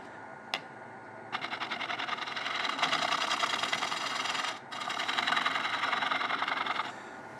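Wood lathe spinning a turning blank while a tool flattens the tenon, a steady whirring hum with a dense rapid ticking chatter from the cut, loud and continuous, briefly dropping and resuming midway, with no voices.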